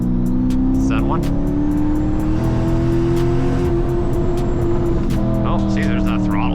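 Turbocharged Dodge Challenger SRT engine at wide open throttle, a loud, steady roar from inside the car with rising pitch under continuous load, while people talk over it.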